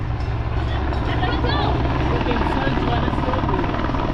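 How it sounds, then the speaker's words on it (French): A helicopter hovers overhead at a men's professional cycling stage race in France, its steady low rotor drone constant and loud throughout, with crowd noise and people talking beneath it. "Y'a l'hélico."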